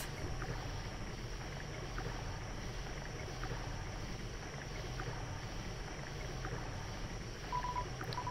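Gentle boat ride across water in Undertale, a steady low watery rumble with soft lapping and a faint high tone running throughout, brief bright blips near the end.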